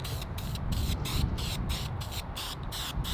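Short hissing bursts of aerosol spray paint outdoors on a windy day, painting parts for a 1969 Chevy C-20, repeated in quick regular pulses with brief gaps between them.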